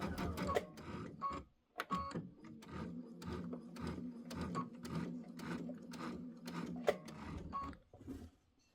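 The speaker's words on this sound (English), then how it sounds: "then you're going to sew it with a healthy" A sewing machine runs steadily, sewing quilt borders with a quarter-inch seam, its rapid rhythmic needle clatter close but quiet, with a few louder clicks and a brief pause early on, with no talk.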